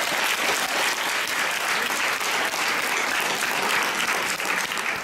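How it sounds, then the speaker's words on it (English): Fan convention audience breaks into continuous, loud applause, a dense wash of many hands clapping at an even level for several seconds with no talk. "give it a round of applause for her"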